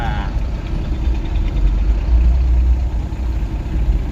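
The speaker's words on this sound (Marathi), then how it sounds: "ट्रॅफिक आहे बघा" Road traffic heard from inside a vehicle, with a loud steady low engine rumble and rolling noise that holds without a break.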